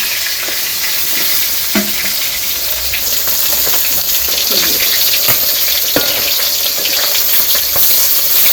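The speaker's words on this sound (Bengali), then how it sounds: "মাছ ভাজা শেষ" Fish frying in hot oil in a village kitchen in Bangladesh gives a loud, steady, crackling sizzle, with scattered sharp pops and clicks of stirring throughout and no voices.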